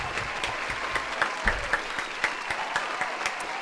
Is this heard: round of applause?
yes